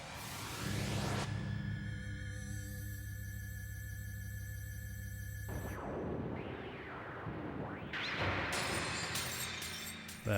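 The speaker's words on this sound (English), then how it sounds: "I heard something like glass breaking inside the cathedral" Glass shattering inside a cathedral in the TurboGrafx-CD game Exile, a loud sharp crash with bright splintering shards, set over and among steady synthesized game music tones, followed by more scattered tinkling fragments near the end.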